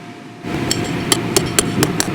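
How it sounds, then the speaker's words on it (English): A hammer drives a stake into the ground during a safety demonstration, landing about six sharp, evenly spaced metallic strikes, close and loud over a steady background hiss. "You'll just simply hook it in and then drive it in with the hammer."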